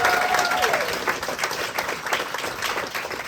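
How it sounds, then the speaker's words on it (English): Audience applause fills a comedy theater at a standup show, a steady, dense wash of clapping that holds loud and close throughout, with a brief voice over the start. "A round of applause for the Arcade Comedy Theater."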